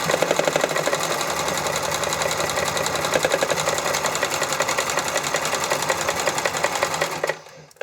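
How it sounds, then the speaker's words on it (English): A sewing machine runs steadily, stitching stretched elastic straps for swimwear, its fast needle chatter close and loud for about seven seconds before stopping abruptly. "At no point while the machine's going should you stretch harder or loosen up on the stretch"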